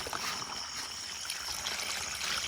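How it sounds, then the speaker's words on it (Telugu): Water pouring steadily into a clay pot, a continuous splashing trickle at moderate volume, with no one speaking. "ఇప్పుడు మనం ఇందులో వాటర్ పోసుకోవాలి."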